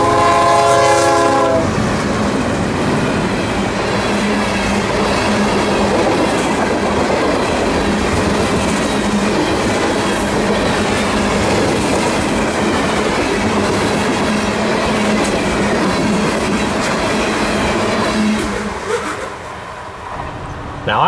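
Freight train rolling past up close, the unit-train hauling juice service between Tampa and Jack's Ramp, with a loud horn blast at the start, then a steady rumble and clatter of wagons that continues for about twenty seconds before easing slightly.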